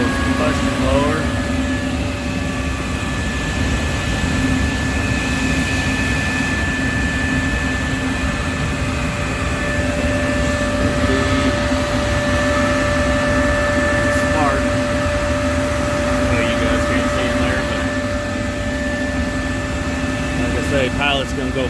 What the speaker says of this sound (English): There goes the combustion blower.